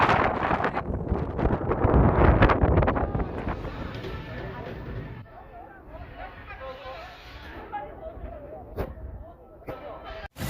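Gusty coastal wind on a walking trail in Yeongdeok, Korea, buffets the microphone outdoors, with voices talking over the rushing noise.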